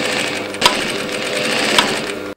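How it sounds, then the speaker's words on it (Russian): Sewing machines running in a sewing workshop, a loud, continuous rapid mechanical whir with a couple of sharp clacks before it cuts off abruptly at the end. "Швейные машинки, нитки и иголки."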